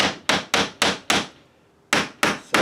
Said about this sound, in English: grab my little ball peen hammer, see if I can just even start this